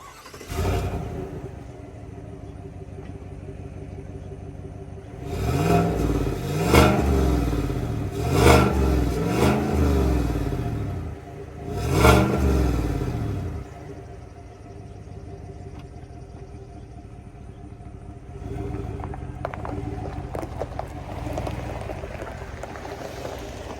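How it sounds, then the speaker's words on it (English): A 2022 GMC Sierra pickup with stock exhaust cranks and fires up, revving in several deep bursts before settling into a steady, rumbling idle; loud and close, no talking. "Let's go ahead and get one final stock exhaust startup"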